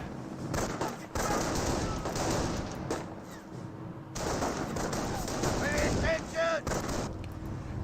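Sustained bursts of rapid gunfire and explosions in the video game Company of Heroes, loud and dense with short gaps between them, while a commentator talks over the battle.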